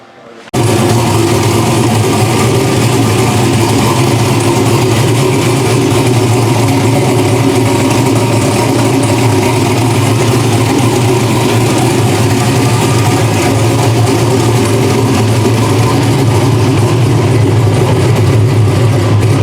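A freshly rebuilt race car engine catches after a brief starter crank, then settles into a loud, close, steady idle with a rough, throbbing rumble and no talk.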